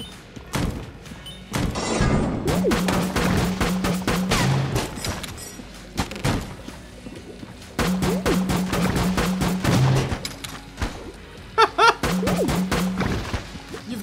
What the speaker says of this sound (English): Oh, fireworks. Nice.